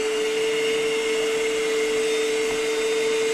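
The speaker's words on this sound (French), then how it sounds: "on va aspirer toute l'air qui est à l'intérieur. Et comme vous pouvez voir, il dégonfle parfaitement" An electric air pump sucking the air out of camping gear to deflate it, a steady, loud, even motor whine with a constant drone and no pauses.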